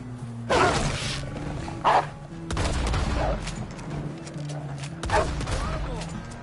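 Gunfire in Red Dead Redemption 2: several sharp shot bursts at irregular intervals over a low steady game soundtrack drone, with voices talking in between.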